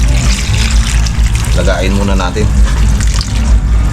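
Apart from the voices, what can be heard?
water poured into a pot for cooking crabs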